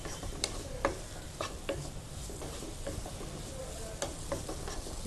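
Soaked dal fries in ghee in a pan, giving a soft, steady sizzle, with a few light scraping and stirring clinks close by.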